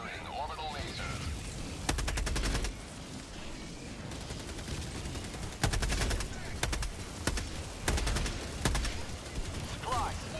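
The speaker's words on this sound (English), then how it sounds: "Firing orbital laser." A game firefight against bots with an orbital laser strike called in, heard as bursts of rapid gunfire and heavy impacts repeating across the clip over a continuous rumbling battle noise, with a voice speaking briefly.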